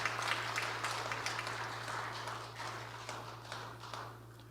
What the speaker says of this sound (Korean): 응원과 격려의 박수를 보내시면 감사하겠습니다